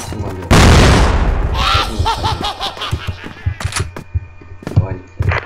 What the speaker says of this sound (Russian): Ложись, граната!